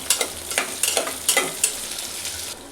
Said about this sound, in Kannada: ಎಲ್ಲ ಒಂದ್ಸಲ ಮಿಕ್ಸ್ ಮಾಡ್ಕೊತೀನಿ